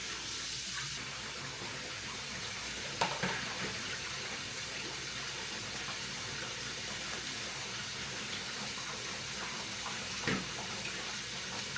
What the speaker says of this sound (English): Potatoes are super dirty, y'all. You got to clean them off real good.